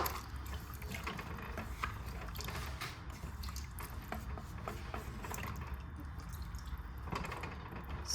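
Water poured into a pot while making beef stew, a steady continuous splashing and trickling pour close by that runs for the whole stretch with no talk over it.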